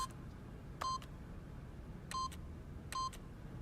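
Game keypad tones as a PIN code is entered, three short clear electronic beeps spaced about a second apart over a quiet background hiss.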